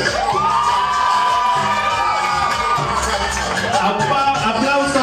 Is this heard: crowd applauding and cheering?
yes